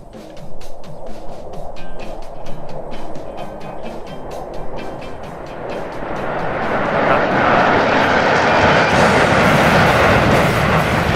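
A SAAB jet of the Swedish aerobatic team flying overhead at an air show, building from a distant hiss into a loud, broad roar as it nears and passes, with faint crowd noise underneath.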